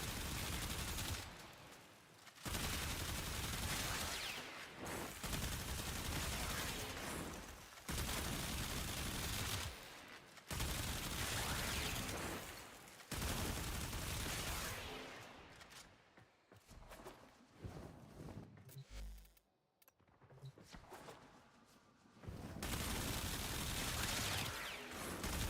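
Perigale Prime rifle in a video game firing long full-auto bursts, loud and close, repeating in sustained streams separated by short pauses.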